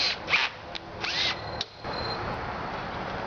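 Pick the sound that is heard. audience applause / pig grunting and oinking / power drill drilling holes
power drill drilling holes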